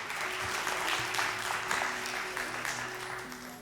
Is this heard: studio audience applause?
yes